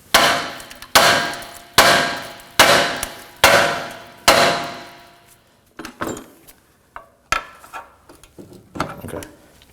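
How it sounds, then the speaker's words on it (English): A hammer strikes an Acura MDX steering knuckle to break the ball joint loose, giving five sharp metallic blows at an even pace, followed by lighter, irregular taps and clanks. "I'm going to be tapping on this area to break it loose."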